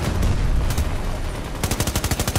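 Hip-fired automatic gunfire in Battlefield 2042, with loud, dense shooting that ends in a rapid, evenly spaced burst of close shots.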